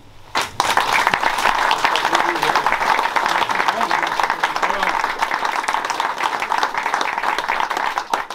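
An audience at a New Year's wishes ceremony of a gendarmerie friends' association breaks into sustained, dense applause that starts abruptly and stays loud and even throughout.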